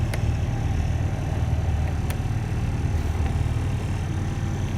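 A 1994-1997 Honda Accord engine idles steadily at close range after a push-button remote start, a constant low rumble with a couple of faint clicks and no talking.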